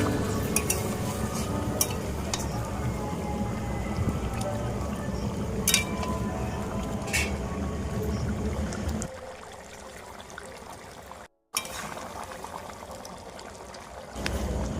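Paneer gravy being stirred in a pan, with a steady, low, bubbling and scraping texture, close and fairly quiet. The sound thins abruptly partway through and cuts out briefly before resuming.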